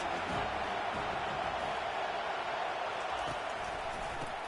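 A football stadium crowd roars in a broad, steady wash of noise during a game, sustained and distant-sounding with no distinct claps or individual voices standing out.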